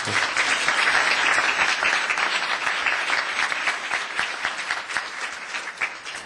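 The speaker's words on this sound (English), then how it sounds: "Let's give them one more round of applause." Sustained applause from an audience at a town council meeting, dense steady clapping that tapers slightly toward the end, with no talking over it.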